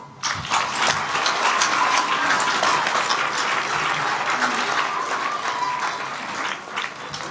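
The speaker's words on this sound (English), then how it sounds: "Give a round of applause for Nico." Loud, dense audience applause for Nico at a Wizard of Oz stage production's curtain call, a sustained wash of many hands clapping that swells quickly and holds steady for several seconds before easing slightly.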